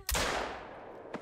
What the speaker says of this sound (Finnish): Se oli helppo laukaus,